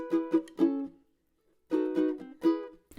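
A ukulele plays a song's main theme, plucked notes and short strummed chords in two bursts separated by a brief pause, clear, close and without talking.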